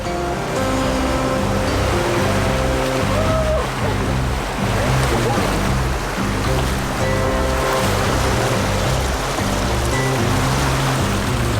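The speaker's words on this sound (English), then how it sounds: "And there are several river crossings too." River water rushes loudly and steadily at a river crossing on Lombok, a continuous broadband roar with some splashing and an underlying rumble throughout.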